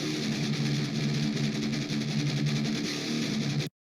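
DI-recorded guitars run through the Amp Roots plugin and panned with a different tone in each ear for stereo separation, a dense, loud sustained wall of sound that cuts off abruptly near the end.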